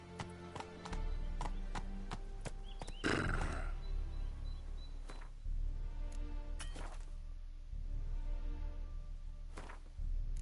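Roach, the horse in The Witcher 3 video game, gallops with steady clip-clop hoofbeats and gives a loud whinny near the start, then keeps running under continuous in-game ambience.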